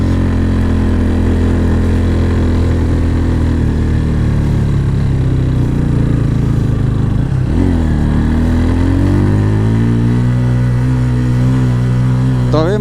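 A motorcycle engine labours up a steep hill in first gear on the mountain road from Bogalake to Keokradong, loud and close, with a strained drone that dips and climbs again as the revs shift. Wind or road noise is heavy throughout.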